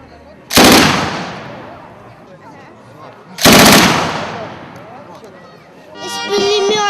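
Two loud, close bursts of rapid machine-gun fire at an artillery brigade anniversary celebration, each ringing out and fading into echo, followed by a voice speaking at the end.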